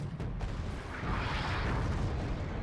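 Artillery fire in Wargame Red Dragon lands as a heavy rumbling explosion that swells and sustains, loud and dense.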